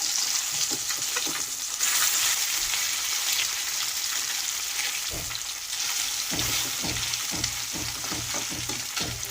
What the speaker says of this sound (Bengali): দেখুন বন্ধুরা, মাছগুলো এক পাশ ভাজা হয়ে গেছে। আমি এবার এগুলোকে